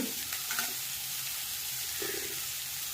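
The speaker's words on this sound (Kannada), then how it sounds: "ನೀರುಳ್ಳಿ ಫ್ರೈ ಮಾಡಿದೆ, ಅರ್ಧ ಫ್ರೈ ಆಯಿತು." Onion, ginger and garlic fry steadily in a pan with a dense, continuous sizzle, punctuated by a few stirring scrapes, close and loud with no talking.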